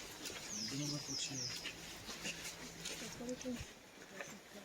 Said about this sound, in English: The bird is talking.